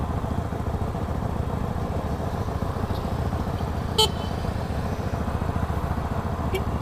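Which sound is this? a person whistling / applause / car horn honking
car horn honking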